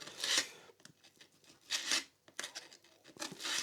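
Curved marks on a Gretsch 6120 style guitar body are sanded by hand, giving close, rhythmic rasping strokes in several distinct bursts with no talking.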